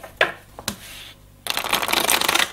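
Oracle cards for a chakra spiritual reading are shuffled up close, a few soft taps and slides first, then a continuous crisp riffle of card flutter for the last second.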